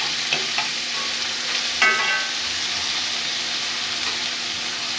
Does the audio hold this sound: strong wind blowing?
no